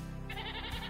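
A goat on a small island near Rhodes lets out one sustained, wavering bleat, close and clear over a low background hum.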